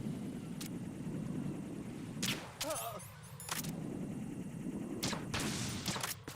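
Gunfire from a video game rattles through a low, constant rumble, with several sharp bursts of shots spread across the clip, some in quick fusillades, heard at moderate distance with no talking.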